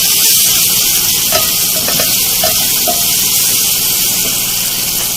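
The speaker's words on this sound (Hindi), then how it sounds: "इसको मैं हल्का सा फ्राई करूंगी" Spices, tomato and onion frying in a pan for a village-style potato curry, a steady loud sizzle and hiss with faint stirring clinks scattered through it.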